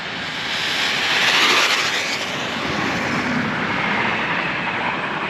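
A Traxxas 4-Tec 3.0 RC car's electric motor runs at half throttle, a loud steady whine and rush that swells slightly and holds continuously for several seconds with no talking.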